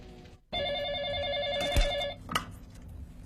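A telephone bell rings in a domestic TV-drama scene, a single loud electronic trill lasting about a second and a half, then cut off by a thud and a short clatter.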